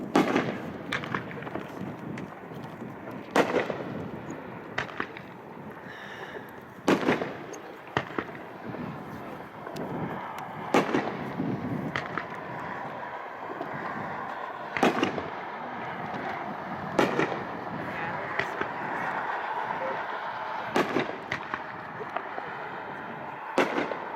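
Lew's Fireworks Genetic Giants finale cake fires a long barrage of sharp bangs and crackling breaks, with loud bursts recurring every few seconds over a steady wash of crackle and rumble at an outdoor fireworks demo show.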